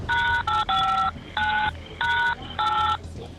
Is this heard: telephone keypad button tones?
yes